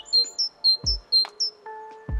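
Great tit calling with repeated high, thin whistled notes in quick rhythmic pairs, close and clear, with a couple of low thumps and a steady tonal hum beneath.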